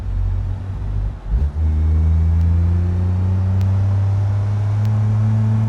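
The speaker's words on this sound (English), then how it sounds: "Full throttle up the hill." A car engine in the BeamNG driving game roars at full throttle while climbing a hill, a steady loud drone with rising harmonic tones after a brief dip, close and unbroken, with no talking.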